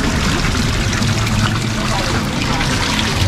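Spring water gushes at its source at Sibul Health Spring Resort in San Miguel, Bulacan, making a loud, continuous rushing and splashing that stays close and steady throughout.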